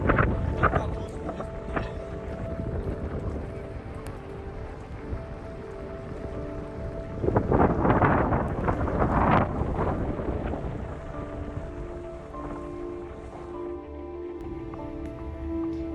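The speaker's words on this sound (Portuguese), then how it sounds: "o vento é tão forte, jogou a gente lá pra trás" Strong wind buffets a boat lying at anchor, a steady roaring rush with heavier gusts building midway, close to the microphone and without speech.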